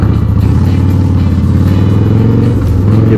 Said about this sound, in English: Give him a little rev bomb.